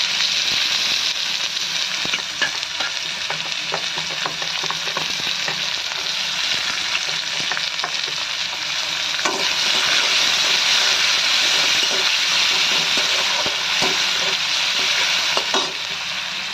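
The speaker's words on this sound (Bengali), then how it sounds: "পেঁয়াজটা একটু ভাজা ভাজা হওয়া পর্যন্ত অপেক্ষা করতে হবে।" Chopped onion sizzles steadily in hot oil with cumin seeds and two bay leaves in a kadai, a dense continuous frying hiss with occasional stirring clicks, close and alone.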